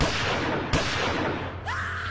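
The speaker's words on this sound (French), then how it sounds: "Des coups de feu retentissent." Gunshots in a street duel in Paris: two sharp, loud reports about a second apart, each followed by a ringing, echoing tail over a low rumbling background.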